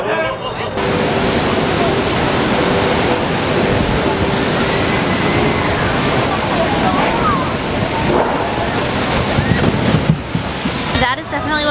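A theme park water ride's boat splashes down in a heavy, loud rush of water and spray that roars steadily for several seconds and then cuts off abruptly near the end.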